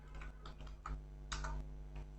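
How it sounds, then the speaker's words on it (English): Keys tapped on a computer keyboard while renaming objects in Blender, a quiet irregular series of soft clicks close by, with no talk. "I can say F2 on my keyboard."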